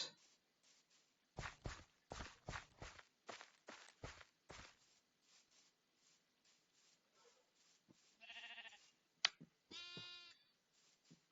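Blocky Minecraft-style sheep in the Web3 game Hungry World, heard after a run of crunchy footsteps that fade out. Two clear bleats follow near the end, the second more quavering, with no talk over them.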